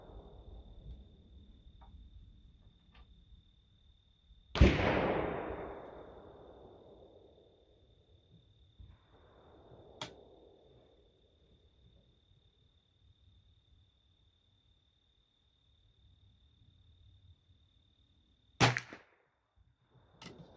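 A .25 Stevens rifle firing reloaded rimfire and centerfire cartridges: one loud sharp report with a long fading ring, a small pop mid-clip, and a second sharp shot near the end, over faint outdoor background.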